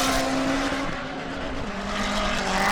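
A Nissan S15 drift car on Achilles-type aggressive setup slides through a Formula Drift Japan qualifying course, its engine roaring steadily at high revs with tire squeal blended in, loud and continuous for the whole stretch with no talk.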